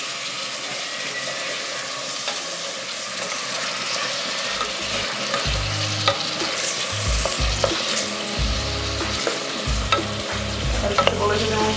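Onion frying in a pan while cuscuz is prepared, giving a steady, close sizzle that runs throughout with repeated scraping stir strokes and low clatters, and no voices.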